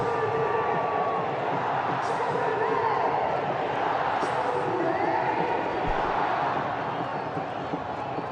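Stadium crowd roaring and cheering after India's Champions Trophy 2025 win, a dense, sustained wall of noise with scattered whistles and shouts, and a commentator's voice partly audible beneath it.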